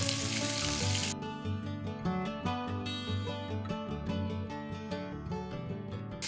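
Whole cinnamon, clove, star anise, green cardamom, cumin seeds and sliced onions fry in ghee with a steady close sizzle and crackle throughout.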